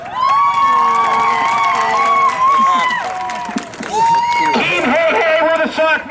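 A crowd of many children and adults cheers and shouts loudly at the outdoor unveiling of the Davy Jones statue in Beavertown, with overlapping high voices whooping in sustained bursts and a short dip midway.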